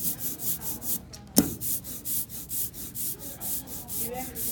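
A squeegee drags screen printing ink back and forth repeatedly in a steady rhythm, a slightly sticky, tar-like rasping stroke near at hand, with one sharp click partway through.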